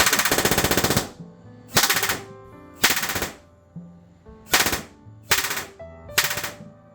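An airsoft gun fitted with RDX B.O.S.S. trigger contacts fires loud rapid bursts, about six short full-auto strings separated by brief pauses, close and alone.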